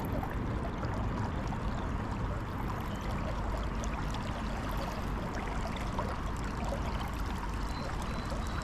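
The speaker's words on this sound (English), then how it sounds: "This water is moving way too fast" A fast-flowing creek rushes steadily past a fishing spot, a dense, continuous wash of water noise that stays loud and even throughout, with no voices.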